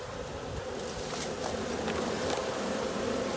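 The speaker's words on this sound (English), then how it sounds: "you can tumble a few bees out of there if you want, right on the queen cage" A dense, steady buzz of many honeybees being tumbled from a package onto a queen cage, close and continuous throughout, with no voices.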